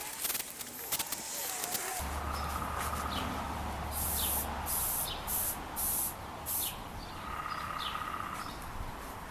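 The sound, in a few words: spray painting with aerosol can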